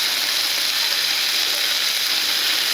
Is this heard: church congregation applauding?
no